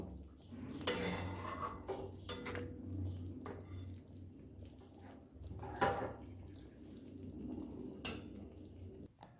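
A pot of mixed dal is lifted off the stove amid scattered metallic clanks and scrapes of cookware and utensils, quiet and close, with soft bubbling in between.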